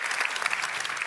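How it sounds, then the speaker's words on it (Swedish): Sustained audience applause from a crowd at a feminist literature festival panel in Umeå, dense steady clapping filling the whole moment without voices. "Det är ju värt en applåd tycker jag."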